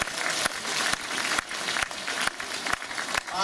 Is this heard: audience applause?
yes